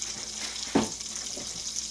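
Sausages sizzle steadily in a hot pan, a soft, even hiss with one brief louder clink or stir near the middle, close by and with no voices.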